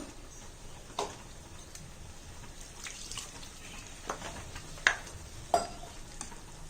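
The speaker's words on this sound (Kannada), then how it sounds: "ಮಿಕ್ಸಿ ಜಾರಲ್ಲೇ ಸ್ವಲ್ಪ ಮಸಾಲೆ ಜೊತೆಗೆ ನೀರು ಹಾಕ್ಬಿಟ್ಟು ಕಲಸಿ ಹಾಕ್ತಾ ಇದ್ದೀನಿ" Quiet kitchen sounds of water and masala being poured from a mixer jar into a pan for pumpkin curry, with soft splashes and a few sharper clinks over a low sizzling hiss.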